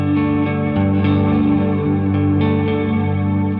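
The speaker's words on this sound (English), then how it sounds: "You can hear it adds a bit of, I want to say tremolo to the back of the reverb." An electric guitar plays through a Keeley Caverns V2 pedal set to modulated reverb, sustained chords washing together with a wavering, tremolo-like shimmer in the reverb tail, loud and continuous with no talking.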